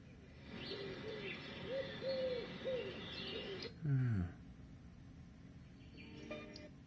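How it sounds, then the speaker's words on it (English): Soft, repeated bird calls play from the speaker of a Philips Somneo wake-up light alarm, cooing and warbling notes in a steady pattern, briefly interrupted by a low burst of noise. "bird would definitely wake me up."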